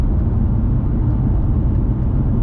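A stock BMW E92 M3 V8 engine rumbles with a deep, steady drone, heard loud and close from inside the car while cruising in second gear at around 50, with no talk over it.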